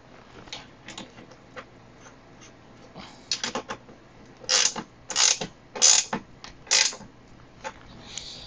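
Tool tightening a freehub body on an e-bike wheel, giving a series of clicking ratchet and metal ticks that start faint and grow into a handful of louder, sharper clacks, close by with no talk.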